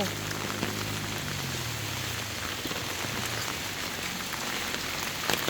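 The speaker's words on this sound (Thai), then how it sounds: "ฝนตกฝนตก ฝนตกนะอ่า ฝนตกนะ" Rain falls steadily on plants and flowering sunn hemp, a continuous soft hiss of drops with no voices.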